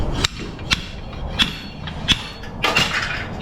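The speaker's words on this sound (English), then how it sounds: "get this thing out with the new big ass slide hammer" Several sharp metallic clanks from a slide hammer pulling a rusty hub on a 2018 GMC Sierra 4x4 strike at irregular intervals, close and loud, over a low background rumble.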